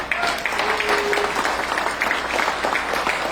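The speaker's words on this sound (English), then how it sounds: "So let's give a big applause." An audience at the opening ceremony of the 4th World Newah Convention 2022 in New York claps steadily, a dense, loud wash of applause filling the whole moment.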